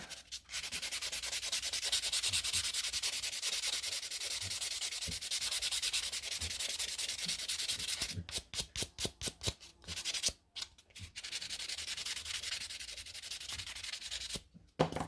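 A nail file rubbing scratches off a gel-polished fingernail, a steady close scratching that breaks into quick rhythmic back-and-forth strokes and short pauses toward the end.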